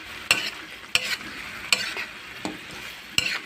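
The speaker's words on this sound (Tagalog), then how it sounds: "So, luto ng ating adobo." Adobo sizzling in a hot pan while a utensil stirs it, sharp scrapes striking about every second over a constant frying hiss, close and alone.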